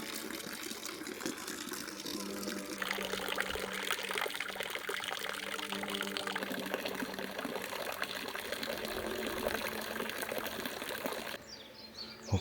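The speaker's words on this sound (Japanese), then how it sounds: "水が流れてます。" Water runs and trickles steadily beside an old, disused school swimming pool in a remote mountain village in Kumano, Mie, a continuous close wash of flowing water that drops off abruptly near the end.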